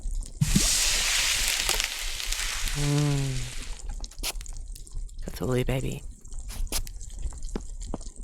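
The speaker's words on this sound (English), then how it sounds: "Pour the broth from the pot into the pan." Broth is poured from a pot into a pan in a cooking video game: a steady liquid pour and sloshing, followed by bubbly dripping water effects, with a person talking over part of it.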